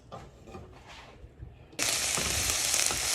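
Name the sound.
onions frying and caramelizing in pan for bacon jam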